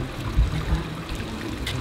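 Liquid trickles into a swimming pool from a bottle in a steady, soft stream lasting under two seconds, with a couple of low splashy bumps and no voices.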